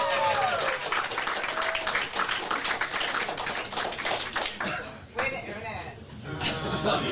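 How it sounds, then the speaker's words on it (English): Audience clapping and laughter at a live comedy podcast taping, with dense applause under ongoing talk as voices speak over the crowd for most of the stretch. "Let's clap for him."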